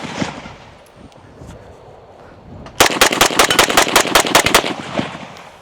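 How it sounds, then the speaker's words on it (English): Zastava M92 rifle firing GROM ammunition into a berm outdoors, a rapid string of loud, close shots in quick succession, preceded by quieter handling noise. "I'm just gonna dump into the berm."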